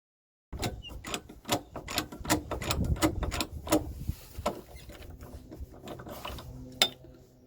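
A pole jack lifts a Ford Transit camper to change a spare tyre. Close-up ratcheting clicks and mechanical knocks come in a steady, rhythmic series before slowing into fainter, scattered clicks.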